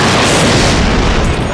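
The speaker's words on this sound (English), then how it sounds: "Campbell was hit by an almighty bolt of lightning." A massive lightning strike detonates in a loud, sustained boom, a dense roaring blast filling the whole moment with no voices.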